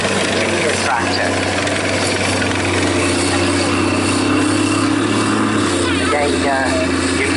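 A military engineer tractor, used by the Royal Engineers, idles at the Great Dorset Steam Fair with a steady, close, throbbing drone and faint background fair noise.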